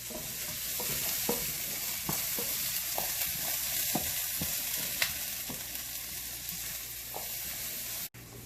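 Red onions fry in a hot pan, a continuous close sizzle with regular scraping strokes of a spoon stirring them, no voices, ending abruptly.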